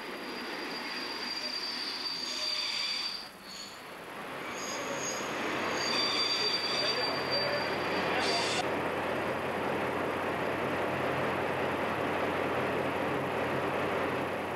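Train squealing as it moves through a small mountain railway station on the flank of Mont Lozère in the Cévennes, a long steady rumble with high metallic wheel squeal, fairly close and continuous.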